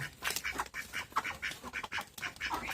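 A small flock of five ducks quack repeatedly in a busy, overlapping chorus, close by and fairly loud, with no talking.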